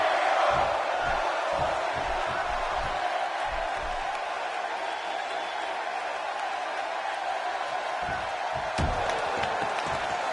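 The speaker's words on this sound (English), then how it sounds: "you can bet this crowd is fired up for this match" An arena crowd roars steadily in the WWE 2K16 wrestling video game, with scattered low thuds and slams beneath a constant wash of cheering.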